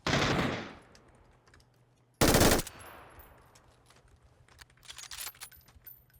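Gunfire in the battle royale game PUBG: a loud burst of rapid shots opens, then a second sharp, dense burst follows about two seconds later, with fainter clicks and clatter trailing between and after, no talking.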